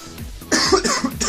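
A short, close cough with a couple of harsh bursts, heard on its own.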